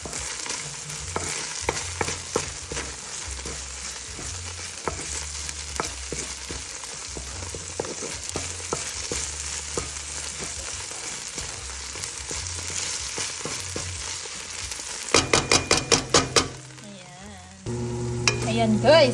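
Beef with ginger stir-frying in a pan for a beef broccoli with bell pepper dish, a steady close sizzle with repeated scraping and stirring strokes throughout, ending in a brief burst of louder clattering.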